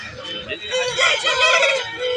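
A rooster crows nearby at a country chicken market in Anantapur, a drawn-out, strained call, with chickens clucking around it.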